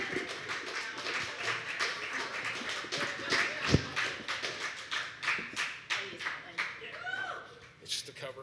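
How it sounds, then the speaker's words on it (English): Scattered clapping from a small audience at a poetry slam, with uneven taps and claps under murmuring voices and one sharp thump partway through. "Please give a huge round of applause to Barry Clack."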